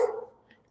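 A single short dog bark heard during a live show, sharp at first and then fading quickly, followed by a faint second yip.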